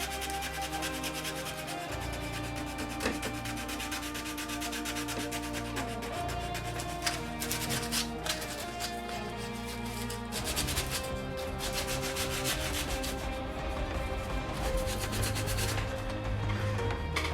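Fine sandpaper smooths a 3D-printed plastic crossguard for a Longclaw sword replica. The rubbing and scraping runs steadily at a low level under background music, with no talking.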